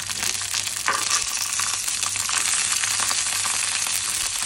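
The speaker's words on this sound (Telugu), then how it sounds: "ఇందులో కొద్దిగా ఆయిల్ వేసేసుకొని ఒక 3 మిర్చి వేసేసుకున్నాం" Three green chillies fry in a little oil in a pan, a loud, continuous sizzle with crackling pops and occasional stirring scrapes, close up and with no talk.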